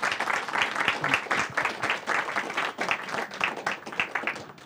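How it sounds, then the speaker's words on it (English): A seminar audience applauds the speakers after their presentations on public and private care for the ageing population, a dense, steady round of many hands clapping at close range that carries on alone for several seconds. "could we give one more round of applause to our speakers for their excellent presentations?"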